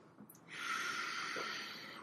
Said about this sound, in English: Deep breaths through the nose